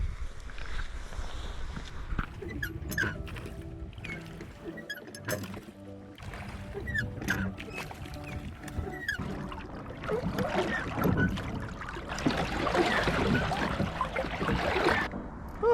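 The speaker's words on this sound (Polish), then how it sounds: "wchodzę ponownie na łódkę" Water sloshing and knocking around a small boat on the Narew river at Zegrze, Poland, with scattered splashes and thumps that grow busier and louder toward the end.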